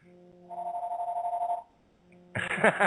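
A telephone rings in a warbling electronic burst of about a second, a pause follows, then a second ring begins, loud and close with nobody speaking over it.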